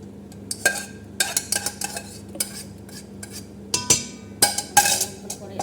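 Potatoes are mashed in a cooking pan with a metal utensil, giving repeated scraping knocks and clatters in uneven bursts, close and fairly loud.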